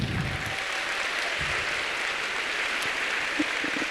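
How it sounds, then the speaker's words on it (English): An audience at a Welcome to Penn 2023 university orientation event gives a round of applause, a steady, fairly soft spread of clapping from many hands that continues evenly with no talking over it. "Give everybody here a round of applause."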